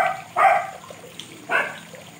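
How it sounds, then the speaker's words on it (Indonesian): A young dog barks twice, two sharp, fairly close barks about a second apart, with quiet room background between them. "Itu yang gonggong itu anjing yang paling junior"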